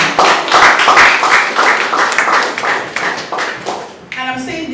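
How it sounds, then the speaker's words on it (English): An audience at an anniversary celebration for a girls' organization in Nigeria breaks into applause, a loud, dense burst of clapping that gradually thins out over several seconds. "I think you deserve a round of applause"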